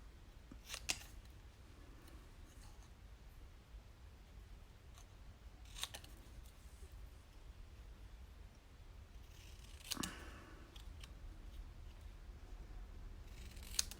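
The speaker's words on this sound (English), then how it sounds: "Then I'm just going to take my paper snips and cut it out." Paper snips cut out a piece of stamped paper, a few sharp, crisp snips spaced seconds apart over a quiet background.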